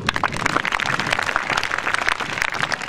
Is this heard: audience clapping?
yes